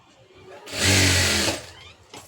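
A sewing machine stitches a fall onto the edge of a saree in one short, fairly loud run of about a second, with quieter handling before and after and no talking.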